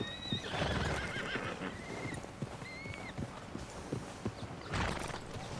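Horse in Red Dead Redemption 2 whinnying with rising, wavering neighs over a steady clip-clop of hooves, game ambience underneath, with a second burst of movement near the end.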